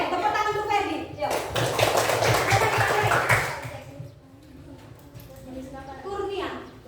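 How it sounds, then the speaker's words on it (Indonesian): Children in a primary-school classroom clap together in a short burst of rapid, sharp hand claps lasting a few seconds, mixed with kids' voices and followed by a teacher talking. "Tepuk tangan untuk Ferdi."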